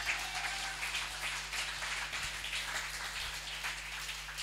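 Congregation clapping their hands in praise during a church service, a steady low-level patter of many hands that keeps going throughout, heard at a distance under a constant hum.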